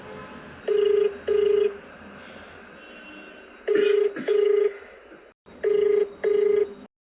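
An outgoing phone call rings back through a handset in paired tone bursts, three double rings in a regular rhythm with soft background hiss between them.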